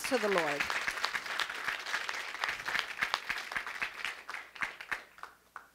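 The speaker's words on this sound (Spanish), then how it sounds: "ese fuerte aplauso al Señor" A church congregation breaks into applause for the Lord during a Spanish-language worship service: a voice trails off, then scattered clapping builds and gradually thins out toward the end.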